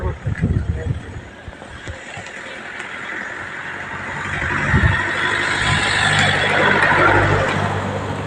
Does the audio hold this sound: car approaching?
yes